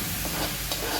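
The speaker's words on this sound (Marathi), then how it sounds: "कांदा टोमॅटो चांगला परतून झालेला आहे आपला आणि तेल सुद्धा सुटलेलं आहे" Onion and tomato fry in oil for a home-style prawn masala, giving a loud, steady close-up sizzle with faint stirring scrapes and no voices.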